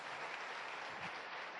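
Audience applause for a reward recipient at a motivational seminar, dense, even clapping from a sizeable crowd that holds steady throughout the short stretch, with no one speaking over it.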